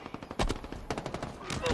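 Rapid automatic gunfire from a Halo Infinite multiplayer match rattles out in quick bursts of close, punchy shots, with a brief pause before another burst.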